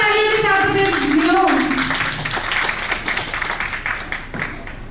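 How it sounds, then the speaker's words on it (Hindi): Audience applause fills the hall at a company awards ceremony, a dense burst of clapping that starts under a singing or sustained voice and continues steadily, fading slightly toward the end. "तो एक बड़े जोरदार तालियां"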